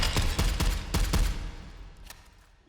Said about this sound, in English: Let's shoot those targets